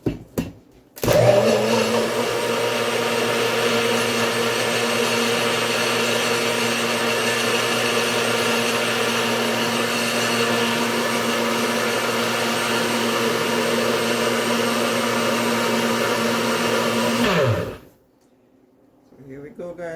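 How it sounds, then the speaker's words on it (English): An electric blender whirs steadily and loudly through a batch of beetroot, carrot and ginger juice for about sixteen seconds, then cuts off abruptly. "Let's blend our beetroot and carrot juice with our ginger,"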